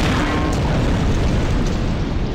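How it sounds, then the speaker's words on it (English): A loud, sustained explosion in the video game The Kitchen's Sink rumbles with a dense, roaring blast that stays heavy and even throughout, with no voices present. "That was some weird explosion."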